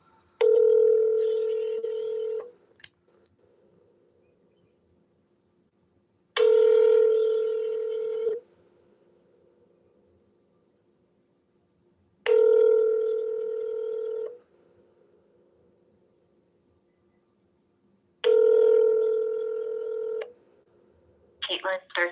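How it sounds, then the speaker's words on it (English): Automated phone system tones during a call transfer: four long ringback-style tone bursts about two seconds each, evenly spaced six seconds apart, clear and steady over a quiet line with a brief blip at the end. "Wait while I transfer your call."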